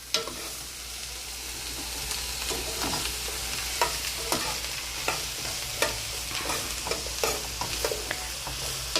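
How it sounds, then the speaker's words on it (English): Chicken, squash and yellow onion tossed with a spoon in a hot pan, a steady sizzle under repeated light scraping and stirring clicks, close and continuous with no talk. "Grab one of my spoons here, and I just want to give it a quick little toss here"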